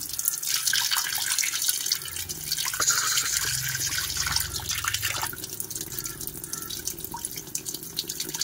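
Water sprays and splashes steadily onto a snakehead fish, a close hissing stream with scattered drips and patters throughout.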